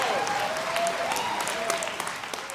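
Steady applause from a church sermon audience fills the whole clip, dense and even, with a faint sustained tone running beneath the clapping.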